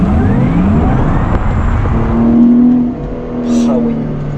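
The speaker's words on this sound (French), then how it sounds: "Le son sport électrique de Taycan" Porsche Taycan 4S electric sport sound, a steady synthetic whirring drone with rising and falling tonal sweeps, loud and close, with people talking over it.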